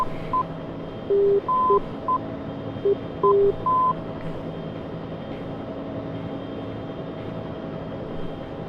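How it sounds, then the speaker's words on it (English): Morse code identifier of NDB navigation beacon station 211 sounds as a series of short and long steady tones over a constant aircraft cabin hum, beeps clustered in the first few seconds, then only the drone, with no talking. "you can also hear the Morse code for that station going on"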